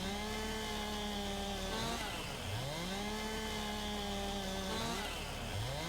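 Chainsaw in Farming Simulator 19 cutting felled trees into logs, a loud steady engine drone that dips and revs back up twice as the blade bites, with a tractor running in the background.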